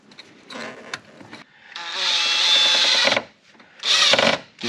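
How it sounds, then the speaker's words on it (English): Screwdriver work tightening fuel hose clamps during a fuel filter replacement on a 1994-1999 Subaru Legacy Outback, heard as close mechanical scraping and a sustained whirring burst, then a shorter burst after a brief pause. "And we tighten the clamps back down."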